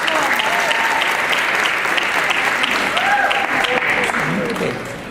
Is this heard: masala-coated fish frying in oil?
no